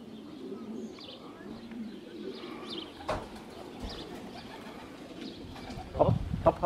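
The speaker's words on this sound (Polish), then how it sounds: "A w międzyczasie doleciał kolejny ptak." Racing pigeons arriving at the loft of a Polish pigeon-racing club branch in Moszna: soft cooing and a few wing flutters over steady background murmur, with a louder flurry near the end.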